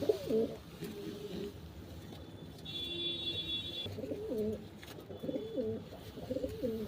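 Mechua pigeons coo in soft low rolling phrases, several separate bursts near the start and end over a quiet background, with a faint steady high tone midway.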